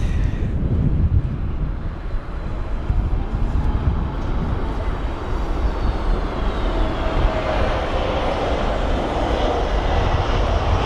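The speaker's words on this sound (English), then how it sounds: "So there's the A321neo." An Airbus A321neo landing at London Heathrow in windy conditions gives a loud, steady jet roar with strong wind-buffeted rumble that holds throughout.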